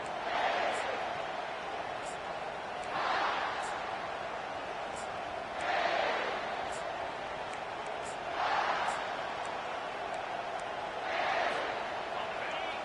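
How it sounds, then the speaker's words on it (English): Stadium crowd roaring at a college football game, a distant broad roar swelling in regular waves under steady commentary. "This crowd bringing an ear-splitting welcome to their visitors"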